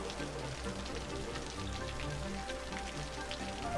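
Steady rain patters continuously on surfaces at night in the city-building game Cities: Skylines, a soft, even hiss with scattered drops throughout.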